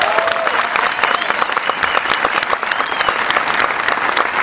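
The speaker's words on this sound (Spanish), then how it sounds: "vamos a hacer un aplauso mucho, pero mucho" A crowd gives loud, sustained applause at a motivational business talk, dense clapping with scattered sharper claps and some cheering voices.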